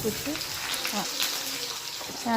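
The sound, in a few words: onion and garlic frying in oil with panch phoron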